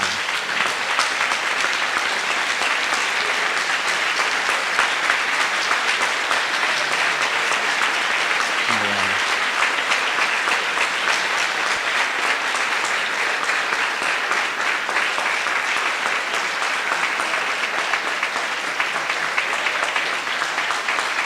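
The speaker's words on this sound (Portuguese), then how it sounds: "Usted merece de nosotros ponernos de pie para aplaudirle." A seated audience rises and applauds at length, a steady dense wash of clapping hands filling the hall with no voices breaking through.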